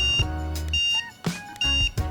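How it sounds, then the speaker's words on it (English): A dog training collar remote, switched to tone mode, emits several short electronic beeps in an uneven pattern, with clicks and handling noise between them. "Hold that down, press the tone button, it makes a beep."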